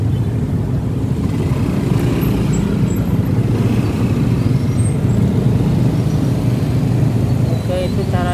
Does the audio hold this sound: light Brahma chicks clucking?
no